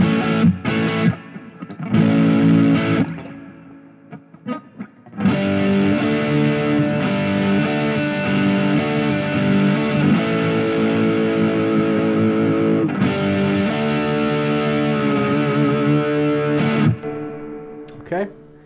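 Distorted electric guitar played through a Positive Grid Spark practice amp with heavy reverb, sustained chords ringing out and decaying into a long wash after a few short choppy strums at the start.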